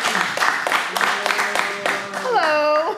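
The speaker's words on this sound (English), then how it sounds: "Y'all clap it up for her." A studio audience claps for a guest, with a run of close, uneven claps over lively chatter, and a voice rises near the end as the clapping thins.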